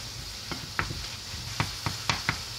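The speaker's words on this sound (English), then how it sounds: "I always like to keep it good and stirred" Poke salad greens cooking down in a pan with hot pepper, stirred with a few soft scraping knocks over a steady low sizzle, close and fairly quiet.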